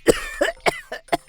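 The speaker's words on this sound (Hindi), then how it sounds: "खांसते खांसते हालत खराब हो गया मेरा।" A person coughs repeatedly, five sharp, close coughs in quick, uneven succession.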